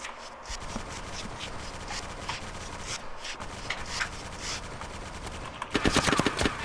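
Gunfire from an M2 machine gun in Arma 2 rattles in fast, dense bursts, mostly distant and muffled, then a louder, closer volley near the end.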